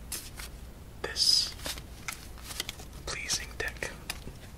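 A pink jumbo deck of playing cards is shuffled close up in a quiet room, giving soft riffling bursts and papery flicks between gentle whispering.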